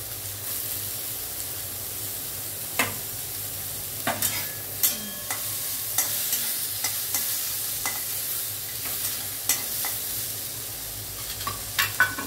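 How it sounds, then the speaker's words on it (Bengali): Tomatoes fry in a pan while being stirred for a festival-style muri ghonto: a steady, soft sizzle runs throughout, broken by frequent sharp scrapes and clacks of the spoon against the pan. "টমেটোটা ভেজে নিচ্ছি, টমেটোটা দিচ্ছি।"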